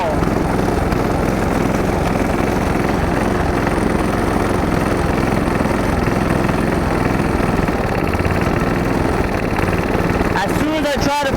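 A snowblower engine runs at a rough medium idle, a loud steady droning rumble close by that stays unchanged before shifting and sputtering near the end.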